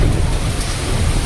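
Heavy rain pours down in Sambhajinagar as a dense, steady roar of water close by, with a low rumble underneath and no voices.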